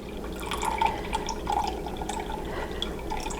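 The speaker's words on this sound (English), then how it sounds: "Now I've got to add 3/4 cup of the organic Bragg's, and I'm just going to pour that right in there" Organic Bragg's being poured into a measuring cup up to the three-quarter mark while making corn-free ketchup, a soft, steady trickle with faint drips at close range and no talking.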